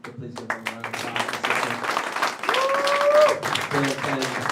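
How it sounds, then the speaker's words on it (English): Applause rises from the crowd at a roast event, a scattered, uneven patter of clapping mixed with cheers and voices talking over it. "Please give them a round of applause."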